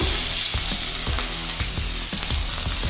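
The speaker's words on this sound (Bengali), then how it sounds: "আদা রসুন থেতো করা আর পেঁয়াজ কুচানো দিয়ে দিলাম।" Crushed ginger and garlic with chopped onion fry loudly in hot oil for a Bengali prawn curry, a steady close sizzle with periodic scraping thumps of a spatula against the pan.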